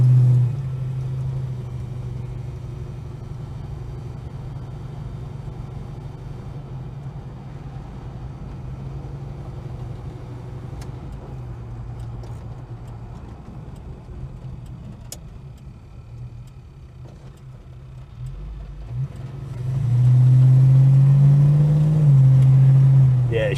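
A Holden HK's engine, freshly fitted with a new cam, idles with a low steady rumble and then swells into a louder rev near the end, heard up close.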